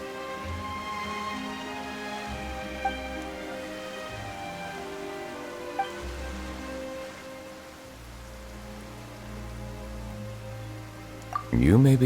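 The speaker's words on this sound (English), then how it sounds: "Why is it raining all of a sudden?" Sudden rain falls in a Genshin Impact scene, a steady broad hiss of rainfall on surfaces running throughout, with a few faint chime-like notes and low music underneath and voices speaking over it.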